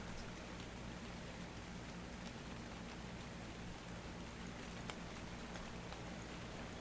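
Steady, even hiss of acid rain falling in a multiplayer survival video game at night, a constant wash of droplets with faint taps and no talk.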